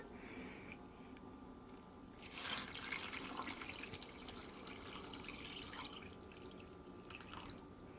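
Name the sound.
water being poured into a pot for corn chowder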